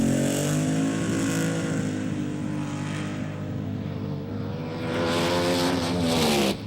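A rear-engine Garlits dragster at the 1971 NHRA Winternationals drag race, smoking its tires on a run: a loud, sustained engine roar with strong harmonics that holds steady and swells near the end.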